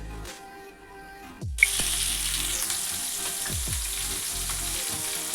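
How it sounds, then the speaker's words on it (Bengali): Dried red chillies hit hot mustard oil with a sudden loud sizzle that then settles into a steady, bright frying hiss, with a few clinks of the pan and utensil. "কয়েকটা সর্ষের তেল বসিয়ে দিয়েছি আর দিচ্ছি শুকনো লঙ্কা"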